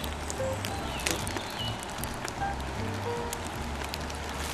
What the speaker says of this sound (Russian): Идет дождь. Там палатка.